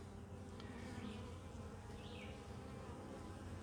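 A honeybee swarm housed in a wooden swarm box gives a steady, dense buzzing hum, even and continuous, fairly faint and close, with no voices over it.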